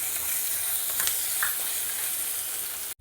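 Crushed ginger garlic paste frying in oil, a steady close hiss and crackle with a faint scrape or two, cutting off abruptly at the end.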